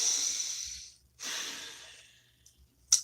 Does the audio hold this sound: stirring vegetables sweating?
no